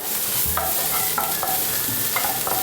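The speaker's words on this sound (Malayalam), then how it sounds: "എന്നിട്ട് അതിനകത്ത് ഗാർലിക്ക് പിന്നെ ജിഞ്ചർ ഒന്ന് സോട്ട് ചെയ്യുക" Garlic and ginger sizzle steadily in hot oil in a pan, with several scraping stirs of a spatula over the continuous frying hiss and no talk.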